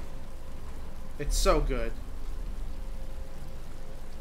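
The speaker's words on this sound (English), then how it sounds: "But it's starting to rain." Steady rain falling in the video game Batman Arkham Asylum, a constant soft hiss running the whole time beneath a man's brief spoken remark.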